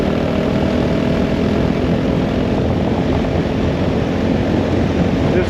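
A 2022 Honda CRF450RL motorcycle rides gravel back roads, its engine droning loud and constant with a dense rumble and wind noise throughout.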